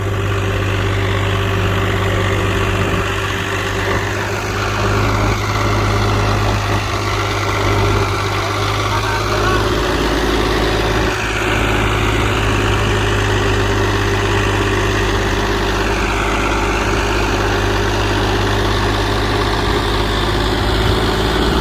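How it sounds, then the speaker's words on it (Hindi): A heavy 50 HP tractor engine runs in fourth gear at a constant, loud, low rumble with mechanical vibration throughout, no voices. "और ये आप देखो लो के चौथे गेयर में ही चल रहा है भाइयों ट्रैक्टर।"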